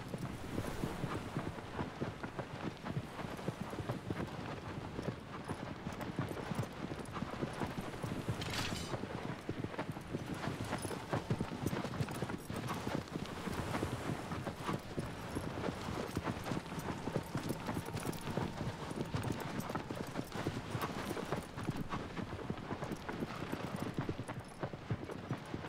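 A horse's hooves clip-clop steadily under wind noise in the video game Shadow of the Colossus, producing a continuous, fairly quiet galloping rhythm throughout.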